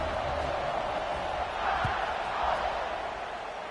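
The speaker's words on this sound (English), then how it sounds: "this crowd is buzzing after that last score" Stadium crowd buzzing in College Football 26 during a Florida vs Alabama game, a steady dense roar of many voices filling the whole clip at even loudness, with a brief thump partway through.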